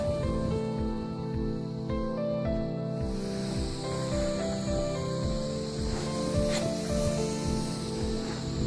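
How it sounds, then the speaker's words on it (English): Steady hissing of a carpet pre-spray sprayer over a mechanical hum during very low-moisture carpet cleaning, with soft rhythmic rubbing pulses repeating about every half second, fairly close. "Now we're going to apply our pre-spray."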